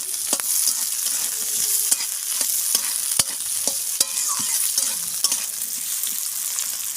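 Sliced onions fry in a pan for a Bengali fig-and-onion dish, with a soft steady sizzle under frequent sharp scrapes and clinks of a spatula stirring against the pan, close up and without talk.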